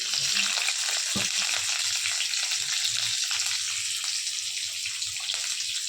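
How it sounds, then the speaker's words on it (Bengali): Chopped onions sizzle in a wok alongside already-fried potatoes, a loud continuous crackling hiss that stays even throughout, with a single faint knock and no voices. "পেঁয়াজ কুচি দিয়ে দিলাম।"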